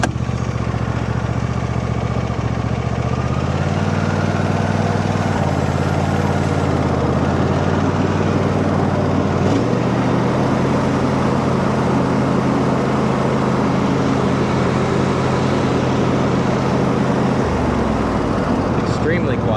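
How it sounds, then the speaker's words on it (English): A John Deere riding mower runs close by with its mowing deck engaged and the blade brake dragging slightly. Its steady engine drone shifts pitch a few times as the deck spins up. "We can go ahead and try to just engage the mowing deck and see what that sounds like."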